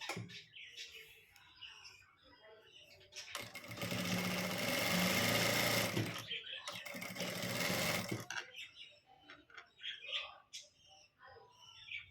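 A sewing machine runs steadily while stitching a blouse, two sustained bursts of loud mechanical whirring separated by a short pause, with talking before and after.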